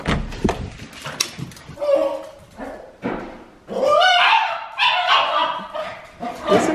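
A dog whimpers and yips excitedly at a homecoming, a string of high whines and short squeaky cries, loud and close, rising and falling with brief pauses.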